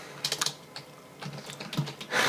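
Quick irregular clicks of a computer keyboard being typed on, close and moderately loud, in short bursts with brief pauses and no talking.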